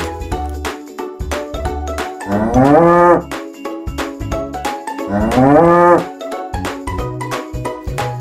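A cow moos loudly twice, long drawn-out lowing calls, with a cowbell clanking rhythmically throughout.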